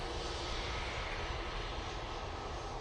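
A fixed-wing airliner departs Manchester Airport bound for Paris Charles de Gaulle, its engine roar a steady, loud, broadband rumble heard from a distance with no voices over it.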